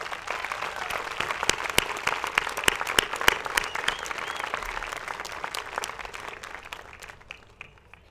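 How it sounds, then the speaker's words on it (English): Applause from parents and guests at a high school graduation ceremony, with many individual claps audible in the crowd, the clapping thinning out and fading over the final seconds. "Please give your parents a round of applause."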